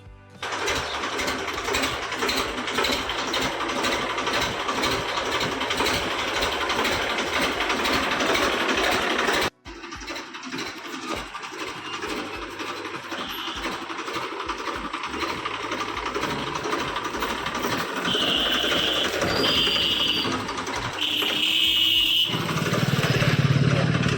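A tractor engine runs steadily with a loud, rough drone, cutting out briefly partway through before resuming and continuing to the end.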